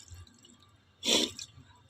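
Water splashes briefly over a Durabrand double cassette music system as it is washed, one short close splash and trickle after a quiet start.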